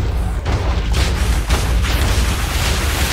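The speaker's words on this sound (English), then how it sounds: "And here comes the explosions." Explosions in the Minecraft video game, a dense run of loud booming blasts and crackling bursts packed close together for about three seconds, with no pause between them.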